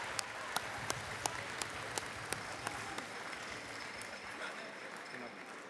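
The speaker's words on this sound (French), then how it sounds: "Applaudissons-les." A church congregation at an Easter service applauds steadily at a moderate distance, with a few sharper individual claps standing out in a loose rhythm, over a faint background murmur.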